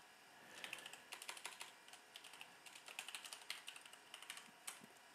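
Typing on a computer keyboard, entering an email address: quick irregular clusters of light key clicks with short pauses between bursts, close and fairly quiet, no voices.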